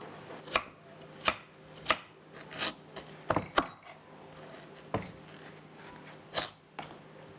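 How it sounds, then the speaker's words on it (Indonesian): A knife chops garlic on a cutting board in a loose rhythm, about a dozen sharp taps with soft scraping between them, close and fairly quiet. "Pertama, saya akan memotong bawang putih."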